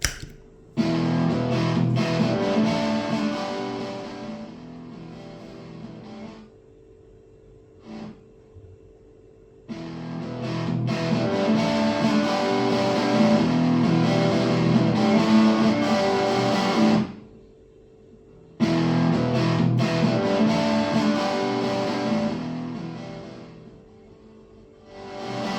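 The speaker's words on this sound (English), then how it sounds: "And you have a full-featured distortion pedal." Heavily distorted electric guitar plays in three long bursts separated by short gaps, loud and buzzing with sustained chords.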